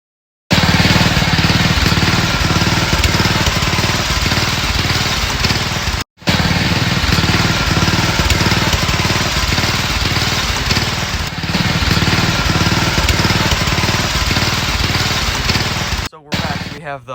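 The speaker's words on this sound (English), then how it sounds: "It sounds kind of like a motorcycle, dirt bike." A racing lawn mower fitted with dual exhaust runs loud and steady close by, its rough, rapid motorcycle-like engine note continuous apart from one brief break midway.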